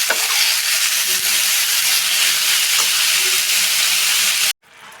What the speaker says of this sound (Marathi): आता हे शिजायला लागलं भाजी